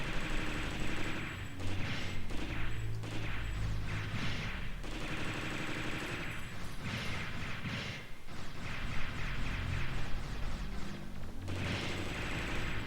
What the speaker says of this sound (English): I hear a death jingle explosion